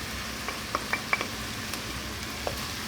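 Onion and garlic sauté in a pan, giving a faint, steady sizzle with a few soft clicks and stirring taps scattered through it, and no one speaking.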